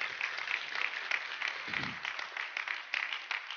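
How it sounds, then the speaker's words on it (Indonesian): Church congregation giving another round of applause, a moderately loud patter of clapping with faint rhythmic accents and a brief low rumble partway through. "Kenapa nggak kita berikan tepuk tangan sekali lagi yang luar biasa."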